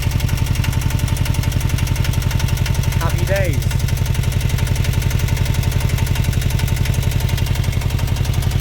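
The engine of a Newbridge Voyager 23 sailing boat runs at a steady, rapid thumping beat. It is loud and close throughout, and someone speaks briefly over it.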